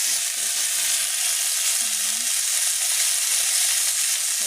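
An egg fries in hot oil in a home kitchen, giving a steady, even sizzling hiss from start to finish, with a faint voice briefly in the background.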